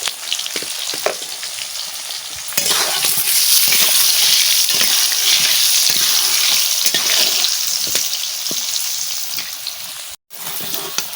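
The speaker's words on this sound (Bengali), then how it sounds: "বন্ধুরা দেখো কি সুন্দর করে আমি আলুটা ভেজে নিচ্ছি" Potatoes frying in a pan with salt and turmeric, a loud continuous hiss that surges after a few seconds and holds steady, with soft stirring clicks and a brief break near the end.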